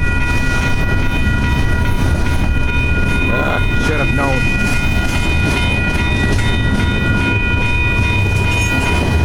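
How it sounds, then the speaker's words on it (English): A Union Pacific freight train rumbles past nearby with steady rolling clatter and a sustained horn tone; a voice speaks briefly over the noise. "there's another train in the opposite direction."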